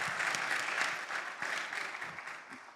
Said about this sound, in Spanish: Se merece un aplauso por esta presentación muy completa.